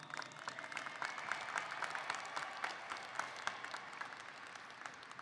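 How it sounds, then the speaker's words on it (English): A large audience at the Arlington High School class of 2023 graduation ceremony claps in sustained, even applause, heard faint and somewhat distant throughout. "Let's give them a round of applause."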